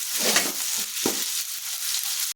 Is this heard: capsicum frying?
yes